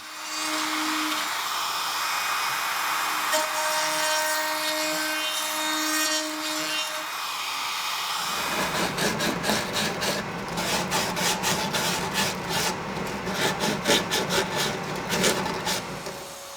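A router puts an 1/8-inch round-over on the edges of holes cut in plywood. A steady motor whine gives way to harsher cutting and rubbing noise that surges unevenly as the bit works around the edge.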